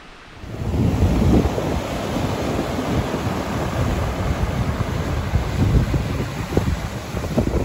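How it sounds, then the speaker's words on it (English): Rough, wild sea waves crash at high tide along the Northumberland coast near a castle, giving a loud continuous surf roar mixed with strong wind buffeting the microphone. "Look at these waves, it's frightening."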